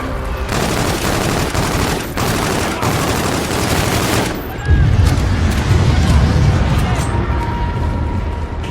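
Sustained gunfire from the Call of Duty Infinite Warfare video game fills the scene, dense fusillade bursts with booming impacts and a heavier rumbling blast partway through, loud and continuous, with voices shouting in the mix.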